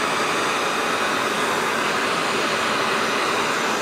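A DOMINOX high-intensity propane torch burns at full flame, making a loud, steady, close roar that is unbroken and without talk.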